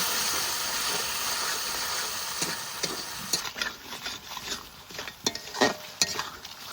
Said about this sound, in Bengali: এবার আবার মশলাটা কষিয়ে নেব